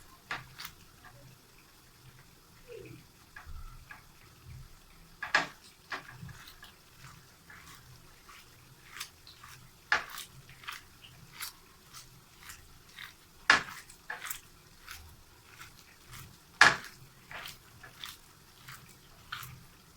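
Minced meat stuffing for stuffed karela being mixed by hand in a bowl, giving soft squelching and occasional sharp clicks against the dish, scattered and irregular, close and fairly quiet.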